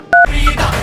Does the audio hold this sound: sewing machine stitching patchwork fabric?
no